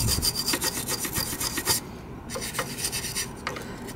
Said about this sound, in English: use the wire brush.